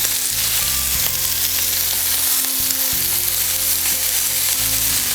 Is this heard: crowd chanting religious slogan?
no